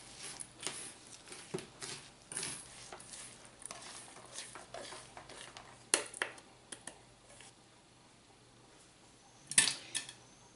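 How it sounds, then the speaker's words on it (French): Spoon stirring a sticky cereal bar mixture of honey, butter and coconut sugar in a bowl, soft scraping strokes throughout with a couple of sharper clinks near the end, fairly quiet and close. "On mélange bien."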